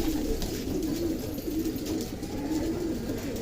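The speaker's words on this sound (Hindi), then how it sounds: "ये कबूतर अभी जो है दाना खा रहे हैं।" Homer pigeons cooing softly in steady low murmurs as they feed on grain, a continuous close flock sound with faint background hiss and no talking.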